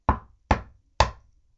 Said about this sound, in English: the big bad shark came knocking on the door